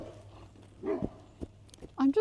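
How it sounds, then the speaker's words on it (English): Dogs bark on a farm during a coyote threat, a few short, sharp barks and yips coming in scattered bursts, the loudest near the end, over quiet background noise. "I'm just trying to figure out what they're barking at."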